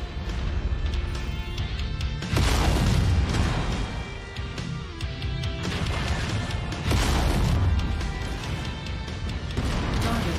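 Exploding mech in MechWarrior 5, a sustained barrage of heavy crashing booms and metallic bursts with several sharp impacts, loud and close amid continuous battle noise.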